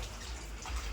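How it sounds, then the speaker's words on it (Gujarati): Water runs from a tap in a home, a steady soft splashing flow heard close up and fairly quiet, with no talk. "ચાલ પાણી ભરા."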